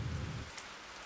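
Rain in a video game falls as a soft, steady hiss with a low rumble at the start that fades, quiet and ambient.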